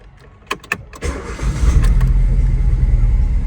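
A car engine starts up with a few quick clicks and a short cranking whir, then catches and settles into a loud, steady idle rumble close by.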